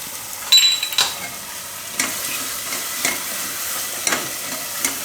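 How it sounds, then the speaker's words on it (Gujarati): Masala stirred into potatoes in a pressure cooker for Gujarati dum aloo, with a few soft spoon scrapes spaced about once a second over a faint background sizzle. "તો આને આપણે બધું મિક્સ કરી લેવું આમાં."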